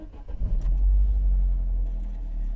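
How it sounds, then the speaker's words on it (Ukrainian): A 2011 Opel Zafira with a 1.8 MPi petrol engine cranks briefly and catches, then settles into a steady low idle close by. "без проблем завелась машинка"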